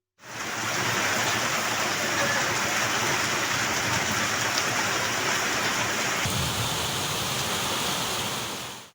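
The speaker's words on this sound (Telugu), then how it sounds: "విశాఖలో భారీ వర్షం కురిసింది" Steady heavy monsoon rainfall in Visakhapatnam hisses in a dense, unbroken wash of sound, fading in and out at the ends.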